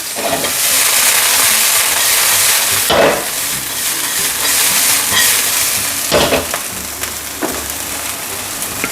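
Oyster omelette ingredients stir-fried in an oily pan give a steady, loud sizzle and hiss, broken by a few scraping stirs of the spatula.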